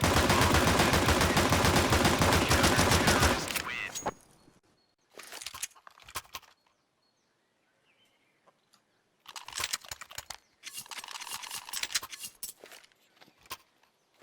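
Gunfire in a Counter-Strike match in a professional esports game: a dense, loud burst at first, then scattered shorter volleys and clicks separated by quiet gaps.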